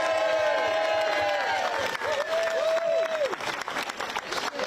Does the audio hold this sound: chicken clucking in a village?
no